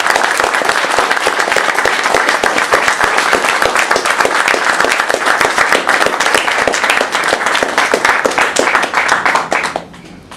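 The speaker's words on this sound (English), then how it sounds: "give a warm round of applause to welcome Jonathan back" An audience in a lecture hall gives a warm round of applause to welcome a returning lecturer, loud, dense and sustained clapping from many hands that cuts off abruptly near the end.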